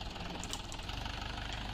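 A farm tractor rigged as a makeshift crane runs its engine at a steady idle, a loud, close diesel chug with a continuous low rhythmic knock and no voices.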